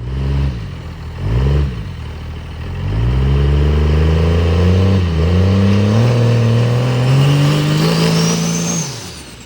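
A drag racing car at an NHRDA event in Arizona, fitted with a CP3 pump, is test spooled: two short loud blips, then a sustained, climbing rev held close for several seconds, with a rising whine near the end before it cuts off.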